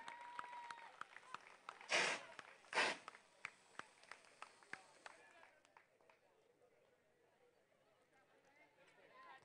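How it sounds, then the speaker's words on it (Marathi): Applause at a prize distribution ceremony for a cricket league rises in two short bursts near the start, followed by scattered single claps and sharp knocks fading into quieter room noise, with a speaker talking over parts. "जोरदार टाळ्या दीक्षित सरोज साठी."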